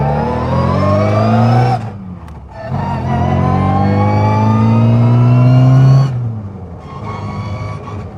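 An MG Midget with a Lenham Le Mans GT body and straight-cut gears accelerates, its loud engine rising through rising revs with brief gaps at gear changes and a gear whine, heard close from inside the car.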